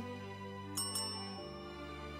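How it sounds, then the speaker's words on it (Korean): A bell rings on an old city street near Deoksugung Palace in Seoul. Two quick, bright dings sound close together over a sustained musical background, with no talking. "안창호에게 의문의 종소리와 함께 반가운 소리가 들려옵니다"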